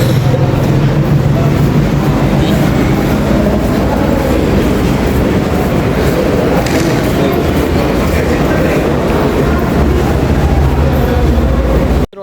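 A train runs through a railway station with a loud, continuous rumble and close clickety-clack of wagon wheels that lasts throughout, with faint wheel squeal.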